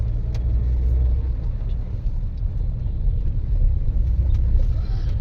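Steady low rumble of a car moving through heavy traffic in rain, heard from inside the cabin, with a continuous engine and road drone and faint occasional clicks.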